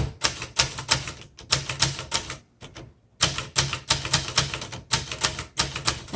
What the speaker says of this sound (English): You have to type slow and steady.